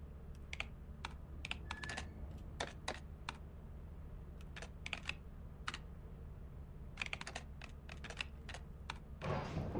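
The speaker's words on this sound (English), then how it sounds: "Typing is hard." Keyboard typing at a computer during a solo session of the game Lethal Company, heard as bursts of quick keystrokes with pauses, close and fairly quiet over a steady low background hum.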